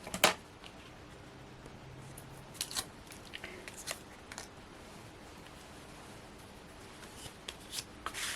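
A card panel is burnished down by hand, producing soft, intermittent dry rubbing and scraping strokes on paper, close by, separated by quiet gaps, with a few sharper brushes near the start and end.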